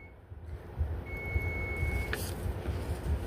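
A kitchen timer buzzer goes off to signal that bread is done baking, a steady single electronic tone lasting about a second over a low rumbling background, followed by a brief sharper burst.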